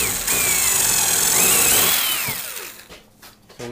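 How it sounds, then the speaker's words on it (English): A power drill whines at high pitch as it bores through a wooden 2x3 close up, its tone dropping as it slows, then spinning down to stop. "I'm just going to drill a hole through here."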